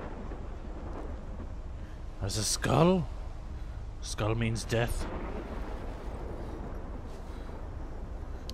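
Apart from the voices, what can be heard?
storm with thunder in the video game Life Is Strange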